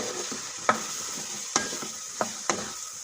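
Fried tofu sizzling steadily in a pan for a Filipino tokwa't baboy dish in oyster sauce, with a broad frying hiss and four or five sharp clacks of a spatula stirring against the pan.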